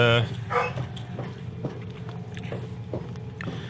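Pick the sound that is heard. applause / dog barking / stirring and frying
dog barking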